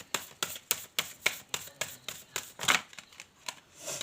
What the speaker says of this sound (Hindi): And this is my last shuffle.